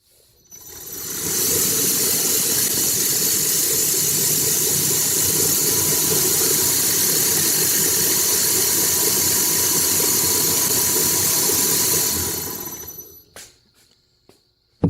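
A 2x72 belt grinder runs alone, spinning up, holding a steady loud whirring hiss with a faint whine for about eleven seconds, then winding down to silence with a few small clicks.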